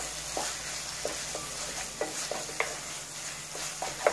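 Tomato chutney with crushed peanut powder is stirred and sautéed in a pan, with soft repeated spoon scrapes and clicks over a faint, steady sizzle.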